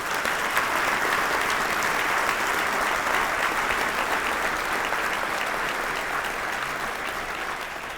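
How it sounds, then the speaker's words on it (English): A crowd applauds steadily with dense, continuous clapping that fades slightly toward the end. "let's give all of them a round of applause"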